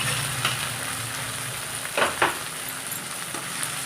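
Onions and chopped tomatoes sauté in a pan for an egg and bitter gourd stir-fry, giving a soft, continuous sizzle with a few scraping stirs near the middle, close and without voices.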